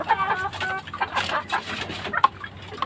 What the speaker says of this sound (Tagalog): Yan, napakagandang babaeng manok.